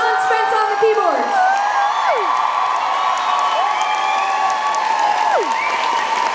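A concert crowd at a show claps and cheers loudly, with whoops and shouts rising over continuous applause while sustained keyboard or guitar tones ring underneath.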